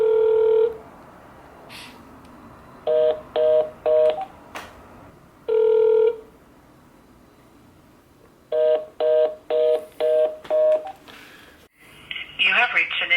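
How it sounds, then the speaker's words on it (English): Bursts of telephone keypad tones, single beeps and quick runs of several, separated by quiet gaps, with a brief garbled noise at the end. "Let me try calling him."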